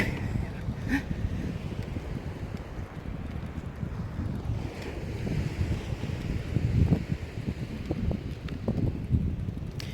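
Wind buffets the microphone at the ocean shore while sea waves wash in, a steady loud roar throughout with rushing surf swells rising and falling.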